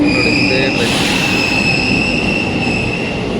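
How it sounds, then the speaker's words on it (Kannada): A train pulls into a station in Japan with a loud, continuous rolling rumble and high, sustained wheel squeal, close by throughout. "ಟ್ರೈನ್ ಬಂತು 3:34 ನೋಡಿ"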